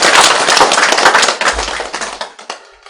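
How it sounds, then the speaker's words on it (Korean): A lecture-hall audience at a Korean talk on the Diamond Sutra breaks into loud, dense applause that thins into scattered claps and dies out within a few seconds. "박수!"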